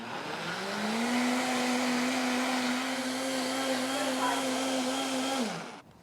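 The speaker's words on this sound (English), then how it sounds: "this blender will actually cook the soup. I just have to let it run at high speed for about 5 minutes and 45 seconds." Vitamix blender running at high speed to cook soup, a loud steady whirring motor whine that ramps up, holds evenly for several seconds, then winds down and stops.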